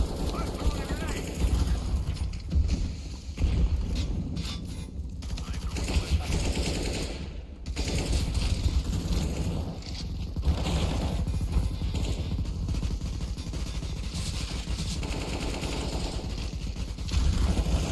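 Bursts of automatic gunfire and mechanical weapon clatter from the video game CS:GO rattle in rapid volleys with brief gaps, mixed with game noise and a voice over the action.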